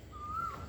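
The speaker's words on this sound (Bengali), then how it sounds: "ওই দেখো কোকিল ডাকছে কি সুন্দর মধুর সুরে" A koel calls in the morning with a single clear, rising whistled note, moderately near, over faint outdoor ambience.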